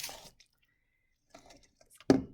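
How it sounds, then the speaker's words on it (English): Homemade snow slime being stirred, a few soft wet squishes and drips, close and quiet with long silent gaps and a louder squelch near the end. "Do you see it, how it's getting kind of gloopy?"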